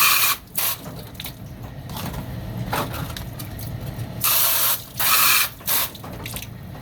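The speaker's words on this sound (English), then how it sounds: "I'll do 3 sprays usually. It depends on the size of your pot, but I'll do inside, outside, inside." Spray bottle misting used plastic plant pots being washed for reuse, three bright hissing bursts in quick succession near the end, following softer scraping and handling noise, close and fairly loud.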